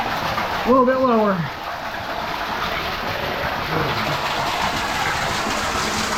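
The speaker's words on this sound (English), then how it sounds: "Waterfall coming in the ceiling." A waterfall pours into a cave from the ceiling in a forest, giving a steady broadband rush throughout, with a brief voice near the start.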